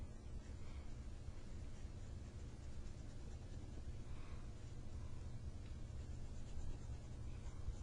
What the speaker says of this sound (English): So I'm just going to erase out this area.